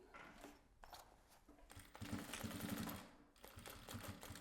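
A sewing machine stitches fabric in a few close, steady mechanical bursts with short pauses between runs, the longest run in the middle.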